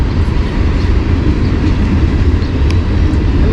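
A Norfolk Southern freight train rolls past close by, a loud, steady, low rumble of rail cars with faint metallic clinks.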